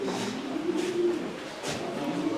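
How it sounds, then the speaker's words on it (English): Several doves coo steadily and close by at a busy Moroccan market, their soft repeated calls layered over a constant murmur of crowd noise. "they have a bunch of doves here"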